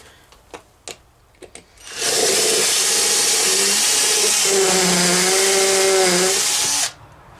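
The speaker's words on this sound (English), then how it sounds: "This is literally the cheapest drill you can get off Amazon" A few light taps, then a cheap electric drill whirs loudly and steadily for about five seconds drilling a pilot hole, its pitch dipping slightly under load before stopping abruptly.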